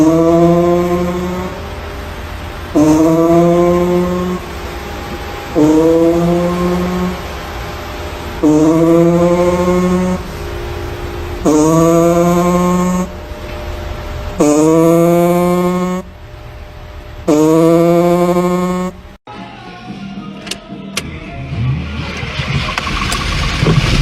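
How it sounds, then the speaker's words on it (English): A car engine with a reported farting-noise fault gives repeated loud, rhythmic blats, about seven regular bursts with brief gaps between them, each a buzzy, flatulent rasp, followed by rattling workshop sounds. "Customer states car came in with farting noise."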